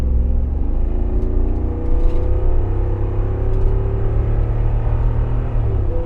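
Jeep Wrangler 392 V8 rumbling loudly up close, its deep engine note rising and falling through a couple of throttle blips with no one speaking.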